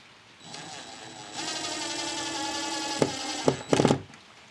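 A power drill drives mounting screws for door weather stripping: a short whir, then a sustained, steady high whine that ends in a few sharp pulsed bursts as the screw seats, close up and without speech.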